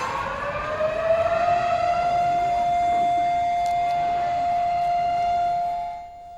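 A Holocaust Remembrance Day siren wailing in Israel, one long sustained steady tone that holds loud for several seconds before dropping away near the end.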